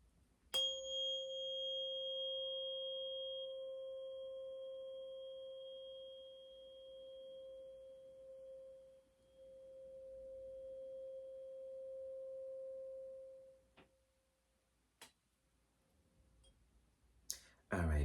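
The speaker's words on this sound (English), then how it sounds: "let's go ahead and do a little tune fork sound healing" A pure, steady 528 hertz tuning fork tone rings out clearly and slowly fades over about thirteen seconds, followed by a few sharp clicks and taps.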